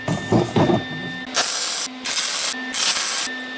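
Tack welding a receiver onto a tractor 3-point hitch gives loud, steady crackling hiss in several bursts of a second or so, with short quiet gaps between them and no talk.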